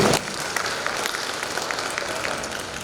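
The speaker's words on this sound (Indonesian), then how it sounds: "tepuk tangan dulu untuk kita" Applause from an audience at a birthday gathering with Gondang Naposo music, a broad steady wash of clapping that starts loud and carries on evenly for a few seconds.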